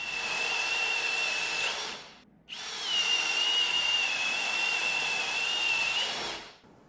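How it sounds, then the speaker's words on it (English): A Milwaukee 2804 cordless drill boring holes with a spade bit, two sustained high whining runs separated by a short pause, close and steady with a slight pitch wobble under load. "In our spade bit test, the 2804 was able to drill the holes"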